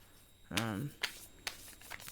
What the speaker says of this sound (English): I don't want the card shuffle to be too loud